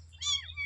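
A house cat that has just been fed milk meows once, a clear rising and falling call, close by over a low steady hum.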